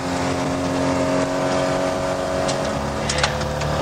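A rally car engine roars steadily at high revs, loud and close throughout with a constant drone.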